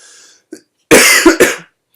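A single harsh cough followed by a couple of throaty coughing bursts, close and loud, with brief breaths before it.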